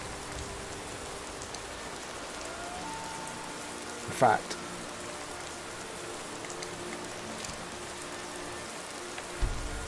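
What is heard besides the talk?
rain sound from the video game Skyrim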